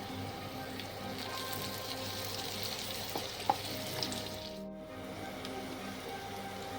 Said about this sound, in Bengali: আমি নুন দিয়ে দিচ্ছি পেঁয়াজগুলো ভাজার জন্যে।